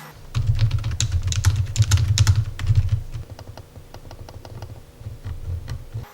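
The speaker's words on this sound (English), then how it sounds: "let's do a keyboard and mouse sound test" Soft, rapid typing on a quiet Jelly Comb MK09 computer keyboard, a steady patter of light key clicks close by, thinning to scattered taps toward the end.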